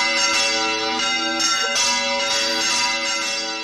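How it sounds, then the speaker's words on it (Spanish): Wedding church bells ring continuously and loudly, their overlapping tones swelling in steady peals throughout. "tenías 27 años cuando sonaron campanas de boda"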